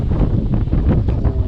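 Strong wind gusts across a rice field during a rainstorm, buffeting the microphone with a constant loud, rough roar throughout.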